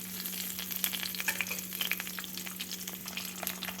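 Mustard seeds, chana dal, turmeric and curry leaves fry in hot oil, crackling and popping in quick irregular bursts over a steady low hum, close and fairly quiet, with no talking.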